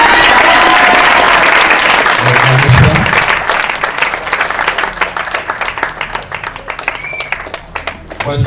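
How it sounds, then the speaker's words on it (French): Guests at a Gabon–Ivory Coast customary wedding applaud the bride's mother with dense, sustained clapping that swells loud early and then thins into scattered claps with some crowd murmur. "Voici la mère. On applaudit."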